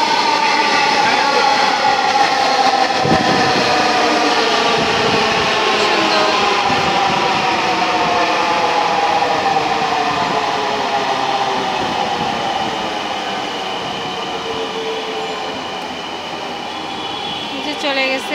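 Dhaka metro rail train at Agargaon station, a loud continuous rumble and whine of the train moving along the platform, steady for the whole stretch and easing slightly toward the end.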